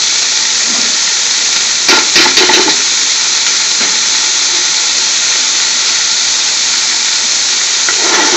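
Three large chopped onions frying in a hot pan for spinach saag bhaji in a British Indian restaurant-style kitchen, giving a loud continuous sizzling hiss with brief bursts of extra crackle.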